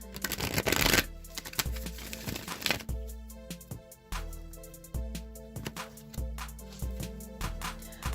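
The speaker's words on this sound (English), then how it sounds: "All right, one more shuffle." A deck of cards is riffled in a fast burst, then a run of crisp snapping clicks as the cards are bridged and tapped, close and fairly quiet.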